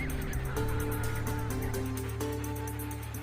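Emperor penguins call at a breeding colony with overlapping honking, trumpeting voices, many birds loud and continuous over windy background noise.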